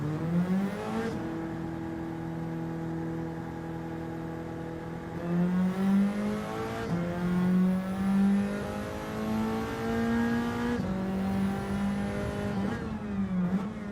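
A race car lapping in Gran Turismo 7, its engine droning steadily and climbing in pitch through the gears, with repeated upshifts and surges of acceleration, loud and close with no talk.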